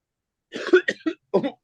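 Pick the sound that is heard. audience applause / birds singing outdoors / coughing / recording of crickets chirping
coughing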